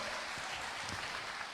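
A crowd at a youth camp preaching contest claps steadily for the preacher boys, a dense, even wash of applause from many hands throughout, without clear speech.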